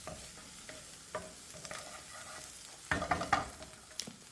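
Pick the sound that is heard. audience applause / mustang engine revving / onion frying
onion frying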